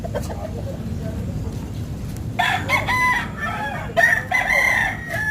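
A Peruvian broodcock rooster crows loudly and close by over a steady low background rumble, with a second, shorter crow following soon after.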